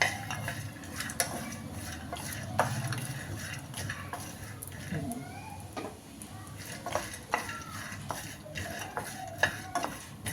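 Flax seeds with cashews, almonds, pistachios and pumpkin and melon seeds dry roasting in a pan, quiet scraping of a spatula with scattered light ticks and clinks of seeds against metal, heard close.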